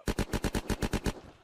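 Rapid automatic gunfire from the video game Unturned, about nine loud close shots in an even burst that trails off, with no talking.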